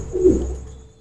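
A single soft, low coo from a pigeon close by, swelling briefly and fading out, with no other sounds around it.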